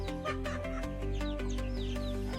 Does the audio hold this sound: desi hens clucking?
yes